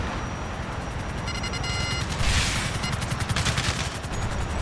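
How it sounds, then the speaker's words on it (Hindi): Video-game gunfire from attacking helicopters crackles in rapid automatic bursts, building into a dense, loud volley over a steady rotor-like drone. "ऊपर से और हेली आ गए हैं यार। मुझे गोलियां भी लग सकती हैं"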